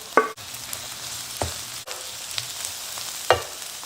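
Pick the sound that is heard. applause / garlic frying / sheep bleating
garlic frying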